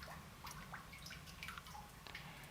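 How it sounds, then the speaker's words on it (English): Water drips steadily inside an old coal mine in Webster County, West Virginia, scattered light plinks and drops landing on standing water over a low, constant background rumble. "See the surface of the water moving because there's so much dripping in there."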